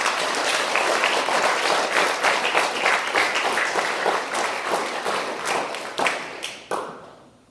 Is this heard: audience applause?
yes